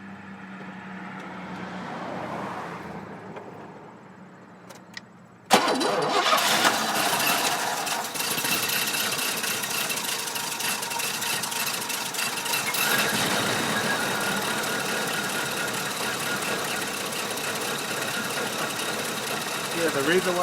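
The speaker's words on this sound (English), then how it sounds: "Alright, so I'm going to start it up now, and hopefully it starts and runs better than it did." An Oldsmobile Cutlass fitted with new spark plug wires, cap and rotor is quiet at first, then cranks and catches suddenly into a loud, steady, slightly rough idle that runs on without a break. Faint activity can be heard before it starts.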